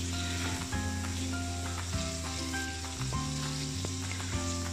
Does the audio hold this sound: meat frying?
yes